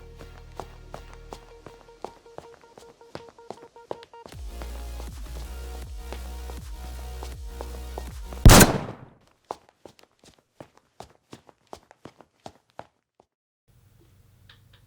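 A single sharp, very loud gunshot cracks out after a stretch of steady noise, followed by a run of evenly spaced footsteps tapping away and fading.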